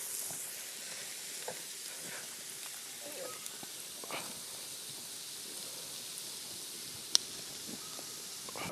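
Onions for a Kerala chicken curry sizzle softly and steadily in a pan, a faint continuous hiss with occasional small crackles and one sharp clink.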